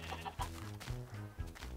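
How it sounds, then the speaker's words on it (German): Chickens cluck repeatedly in a Minecraft world, a run of short, fairly quiet clucks following one after another with no talk over them. "wie viele Hühner sind denn hier, bitteschön?"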